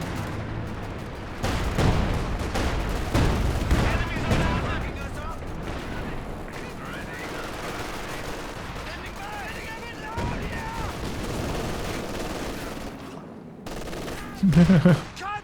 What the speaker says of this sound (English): Look at the rate of fire on that Vet 3 Stug now.